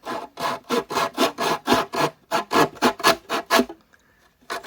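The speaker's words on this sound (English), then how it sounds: "let's cut this thing off. I'm just gonna follow the line of the inside of the peg box here" A hand saw cuts through the wooden peg box of a violin in quick, regular back-and-forth strokes, about a dozen close rasping passes before it stops.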